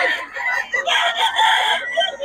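Several roosters crow and cluck together at a bird market in Bocaue, loud and overlapping, with continuous calls across the whole span and no one speaking.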